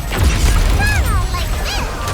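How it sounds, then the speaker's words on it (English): A weapon reload in Goddess of Victory NIKKE: loud mechanical clacks and thumps of the gun action over low rumble, with a voice briefly speaking during the sequence. "Reloading."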